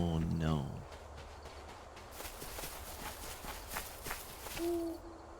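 An owl in the video game Death's Door hoots loudly at the outset, followed by steady running footsteps and another softer hoot near the end.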